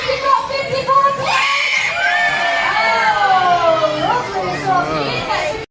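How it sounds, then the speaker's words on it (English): A holiday park bingo crowd of adults and children cheers and shouts, loud, close and lasting several seconds, with whoops rising and falling throughout. "Give me a loud cheer, you've got 54."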